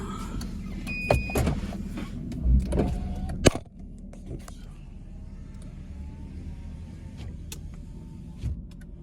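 Inside a Chevrolet Caprice with engine and trouble codes P0208, P0300 and U0401, an electric power window whirs and a door thumps, then a low steady engine hum and road rumble carry on.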